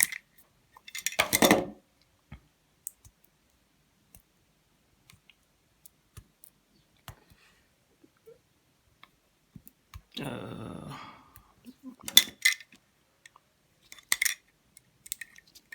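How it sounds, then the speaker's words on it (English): A Chinese power bank battery being torn down by hand: sparse close-up plastic clicks, taps and short scraping bursts separated by quiet pauses, with no talking. "So let me just tear down the battery itself."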